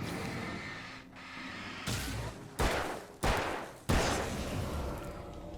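Gunfire in the Alan Wake video game: four loud, sharp shots spaced about a second apart, each cracking out over a quiet ambient background and trailing off briefly.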